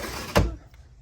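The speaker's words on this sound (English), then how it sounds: "I'm going to just shut this window," A window being shut at home, one sharp thud as it closes, followed by a brief fading rattle and quiet.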